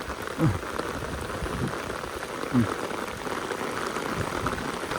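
Rain falls steadily at a landslide site on the road in Bayang, a soft, constant patter with a couple of brief louder bumps and faint voices in the background.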